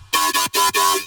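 Double FM bass synth patch built in Serum, with a bright, gritty growl played in four short stabs across about a second, loud and upfront with no voices.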